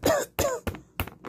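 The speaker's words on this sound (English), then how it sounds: "I need you to cough." Four short coughs in close succession, near and fairly loud, the first two fuller and the last two sharper and briefer, as during a medical exam.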